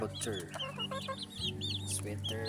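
A hen clucks close by in a series of short, choppy calls with rising and falling notes, filling the brief moment.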